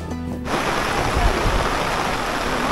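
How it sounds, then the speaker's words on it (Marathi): Steady monsoon rain pours down, a dense even hiss that starts abruptly after a brief quiet moment and continues without pause. "आम्ही जिथे जिथे थांबतोय तिथे तिथे नेमका पाऊस येतोय"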